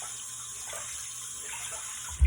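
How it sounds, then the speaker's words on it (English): Tap water runs steadily over a makeup sponge held under a faucet, a close, continuous splashing hiss that holds for about two seconds before a brief bump at the end. "I'm going to run it under the faucet until it gets really wet."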